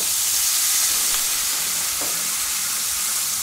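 Cognac hits a hot pan of beef and mushrooms, raising a loud, steady sizzle and hiss of frying and steam that carries through the whole moment, with no voices.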